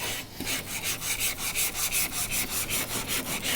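80 grit sandpaper rubs by hand on the car body panels of a Suzuki Wagon R+ during rust repair. The close, rhythmic back-and-forth strokes give a steady rasping pulse about four times a second, with no talk.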